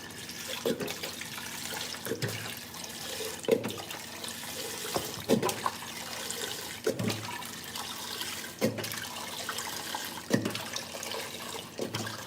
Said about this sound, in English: I'm gonna put some water in here